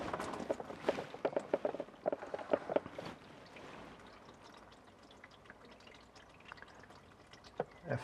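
Warm engine oil draining from a Massey Ferguson 5435 tractor into a pan, heard as a close, trickling and splashing flow with irregular drips, louder at first and then settling into a softer, steady patter.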